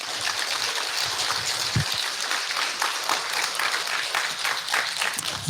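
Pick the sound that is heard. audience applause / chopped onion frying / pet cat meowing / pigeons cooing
audience applause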